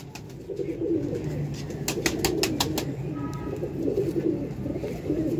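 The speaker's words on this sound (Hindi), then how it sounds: "सियालकोटी सबज मोतियां वाला दोस्तों कबूतर।" Sialkoti green pearl pigeon cooing softly and repeatedly amid a steady low murmur of other birds, with brief sharp clicks and rustles nearby.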